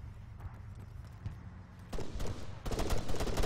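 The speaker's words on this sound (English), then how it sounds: "Oh, there's a shot." Video game gunfire during a S.W.A.T. riot-control operation, a few faint distant shots followed by louder cracks and a closer volley near the end.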